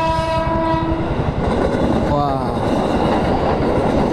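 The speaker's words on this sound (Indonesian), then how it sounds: "Oh iya tuh kereta tuh." A train rumbles past an unguarded railway crossing: a loud horn blast sounds first, then close, heavy rolling clatter continues to the end, with a brief exclamation from a voice nearby.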